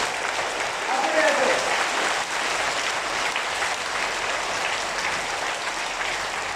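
Audience applause at a Pandokhar Sarkar religious gathering in India, a steady broadband clapping that holds evenly for the whole stretch, loud and dense with brief voices threaded through it.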